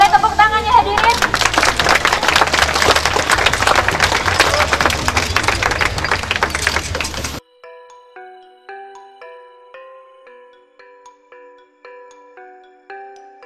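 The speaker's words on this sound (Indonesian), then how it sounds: "Ya hadirin, boleh tepuk tangannya hadirin." Audience applause at an Indonesian public event, a loud sustained crowd clapping with babble for about seven seconds, then cutting to a plain electronic melody of short repeated tones.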